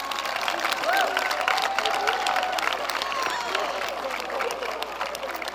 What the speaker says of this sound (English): Can we have another round of applause for our student speakers?